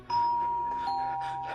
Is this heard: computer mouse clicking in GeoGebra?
no